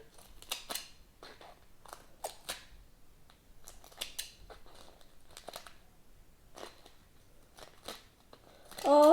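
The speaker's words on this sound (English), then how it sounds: "If you have some extra tape on the side like I do, you can cut around it. Cut all that extra tape." Scissors snip through excess tape around a handmade tape bookmark in a series of short, close, crisp cuts spaced out with pauses, with a louder rustle at the very end.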